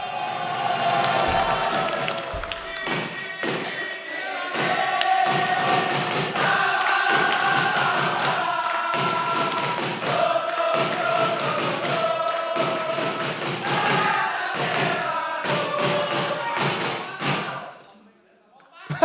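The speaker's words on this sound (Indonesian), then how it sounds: "Tepuk tangan untuk Jakbar dan juga Ciledug, pendukungnya sangat luar biasa." Crowd at a stand-up comedy grand final in Indonesia claps and cheers for its supporters, with dense, steady applause and whoops throughout while a host speaks over the noise, fading out at the very end.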